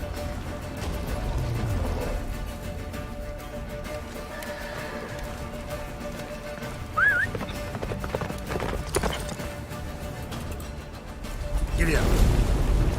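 Horse galloping in The Witcher 3 during a snowy race to a fortress, a steady clip-clop of hooves under game music, wind and character voices.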